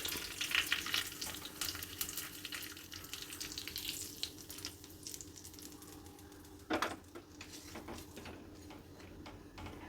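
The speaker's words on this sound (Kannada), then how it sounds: "ಈಗ ಫೈನಲಾಗಿ ಒಂದು ಒಗ್ಗರಣೆ ಮಾಡ್ಕೊಳ್ತಾ ಇದ್ದೀನಿ" Curry leaves and dried red chillies sizzle in hot oil for a tempering, a faint crackling hiss with scattered pops and a sharp clatter partway through.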